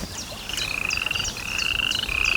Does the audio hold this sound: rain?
no